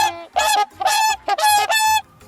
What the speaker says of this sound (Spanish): Los cisnes, gansos, gaviotas y cuervos graznan.